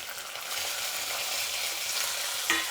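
Onions go into hot oil with fried sun-dried lentil dumplings for an okra chutney, producing a steady, hissing sizzle that holds evenly throughout, with a single brief clink near the end.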